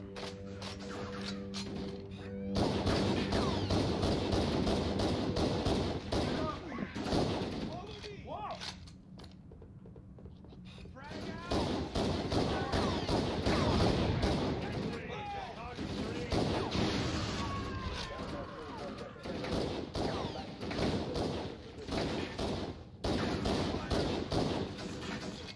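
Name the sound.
pistol gunfire in the video game Halo CE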